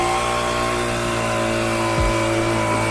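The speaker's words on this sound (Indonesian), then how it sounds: "Oke, sekarang kita akan melakukan blower dulu ya." A Firman FBV70 handheld two-in-one leaf blower vacuum runs at a steady, loud engine drone with a constant whine, and about two-thirds of the way through it gives a brief dip and surge in pitch.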